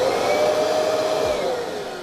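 A Kirby vacuum cleaner runs on its portable head switch, a loud, steady motor whine with a faint high tone that drifts slightly lower, heard up close and alone.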